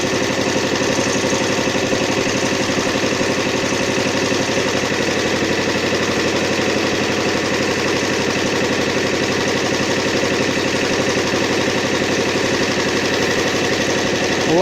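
A homemade inverter generator runs steadily for the whole stretch, a loud, constant engine-like drone with a fine buzzing vibration, close and with no talking.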